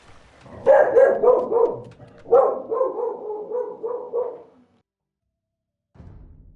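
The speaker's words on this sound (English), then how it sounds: "As my dog comes into the room, 1 second, I'm going to pause." A dog barks and yips in a rapid run of sharp, fairly loud barks in two bursts, then falls silent before a faint low sound at the end.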